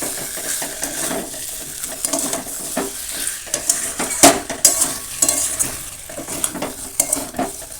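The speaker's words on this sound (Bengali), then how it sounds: "আলুটাও একটু মশলার সঙ্গে কষিয়ে নিলাম" Boiled and fried potatoes stirred and sautéed with spices for a chicken biryani, a soft, steady sizzle broken by the repeated scrape and clink of a spoon against the pan.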